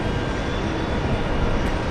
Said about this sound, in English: the Virgin Atlantic flight heading to Manchester is taxiing to the runway